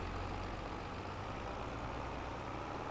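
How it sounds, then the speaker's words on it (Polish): A tractor engine in Farming Simulator 22 drones steadily while pulling a tree, a constant low mechanical hum, faint and even throughout. "Też nie wiem, czy ten ciągnik da radę ale jak widać tutaj idzie ładnie."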